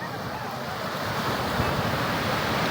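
Ocean surf rolls onto a beach at La Paz, San Narciso, Zambales, a loud continuous wash of waves mixed with wind buffeting the microphone, without any talking.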